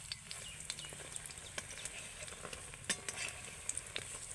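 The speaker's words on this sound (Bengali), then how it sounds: "বড়াগুলো এপার ওপার করে উল্টে পাল্টে ভালো করে আমি ভেজে নেব" Small lentil fritters (bora) frying in oil, a quiet continuous sizzle dotted with sharp crackles and pops, heard close and alone.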